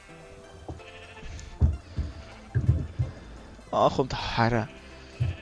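Sheep in the Minecraft game bleat several times in short cries, clustered toward the middle and later part, while someone talks in German over the game sounds.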